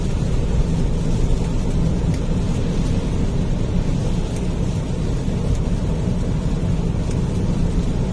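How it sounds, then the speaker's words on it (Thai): Heavy typhoon rain pours steadily and loudly over an area in northeastern Thailand, a dense, unbroken roar with no voices. "ฝนตกทั่วพื้นที่ครับนี่"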